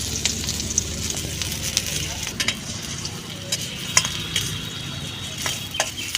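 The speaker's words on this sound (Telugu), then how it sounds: "ఇదిగోండి ఉల్లిపాయ పచ్చిమిరపకాయలు అయితే వేసేస్తుంది" Onions and green chillies frying in a pan in a village kitchen, a crackling sizzle with clinks and scrapes of a stirring spoon scattered through it, close and fairly loud.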